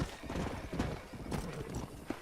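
A horse in Red Dead Redemption on Xbox Series S clip-clops along with repeated hoofbeats, fairly faint, with a short whinny mixed among game ambience.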